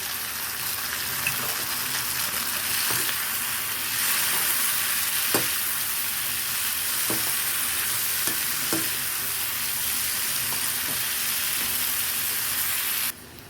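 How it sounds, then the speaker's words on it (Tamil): Steady sizzling and frying of chopped tomatoes and onions in a pan for sambar, with occasional stirring scrapes, continuous and fairly close, no voices. "ஊர் தக்காளி பொடிசாக நறுக்கிந்து இப்போ நான் சேர்த்துக்க போகிறேன் இதையும் நம்ம நல்லா வதக்கிடலாம்"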